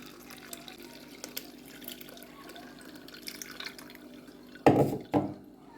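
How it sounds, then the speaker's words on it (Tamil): Pani puri water being strained from a ground paste, with faint dripping under a quiet background and then two louder splashing pours near the end. "பானி தண்ணியை வடிகட்டி எடுத்துக்கலாம்"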